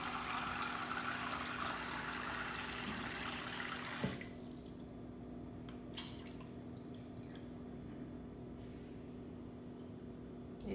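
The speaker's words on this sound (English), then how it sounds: "So now we'll add the last 2 cups of water." Water pours steadily from the last 2 cups into a sugar-water hummingbird food mixture, a close splashing stream that stops abruptly, leaving a few faint drips in a quiet kitchen.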